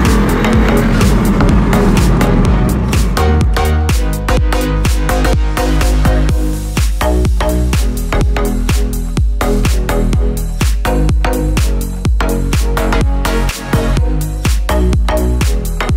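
A Pagani Huayra drives along the road toward central Modena, its engine a loud, close, continuous roar with repeated sharp bursts and throttle pulses throughout.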